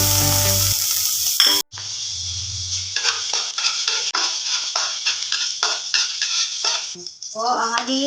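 Garlic hits hot cooking oil in a pan for Filipino-style chicken pastel, giving a steady close sizzle broken by utensil clinks and scraping against the pan, with no talking.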